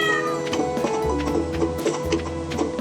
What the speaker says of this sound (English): Fuss the cat.